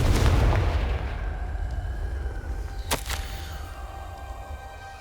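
A Confringo fire spell blasts in Hogwarts Legacy, a sharp single burst cracking out over a dense, rumbling game backdrop with low steady tones.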